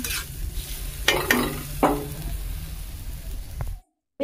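Water poured into a hot pan of cooking vegetables brings a steady sizzle and frying hiss with a couple of sharp stirring scrapes, close and fairly loud, before the sound cuts off abruptly near the end.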